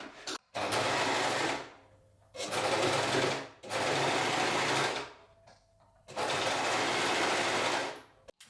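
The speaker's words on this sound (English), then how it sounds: "finish the edge with either your overlocker or your zigzag stitch" An overlocker or sewing machine stitches along a fabric edge in four steady runs of rapid mechanical whirring lasting one to two seconds each, separated by short pauses. The machine is close and clear, and no one talks.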